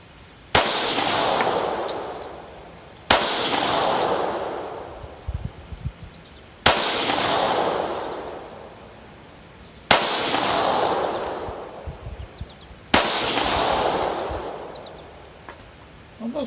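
Five sharp Llama IIIA pistol shots fired at a target, spaced about three seconds apart, each a loud close crack with a ringing reverberant tail fading before the next.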